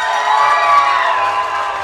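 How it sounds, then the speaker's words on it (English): Audience at a Miss Chinese Pageant talent show cheering and clapping for a competing group, a loud, dense crowd roar with shouts and whoops held steady across the whole stretch. "Group number two, if you think they deserve to win,"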